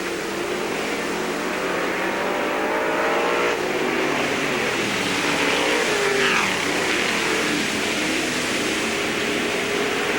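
Race cars roar bumper to bumper down the back straightaway of an oval track during the 1999 JR McMahill Memorial race, a loud, steady engine drone with overlapping revs that holds throughout.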